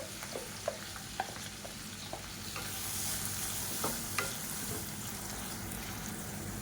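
Chopped onion is frying and sizzling with green chillies in a pan for a vegetable side dish, with a steady close sizzle and scattered light clicks of stirring throughout.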